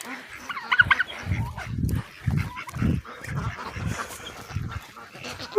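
Pet ducks and geese at feeding time give a run of rhythmic, low honks and quacks at close range, about eight in steady succession, with chattering bird calls layered above.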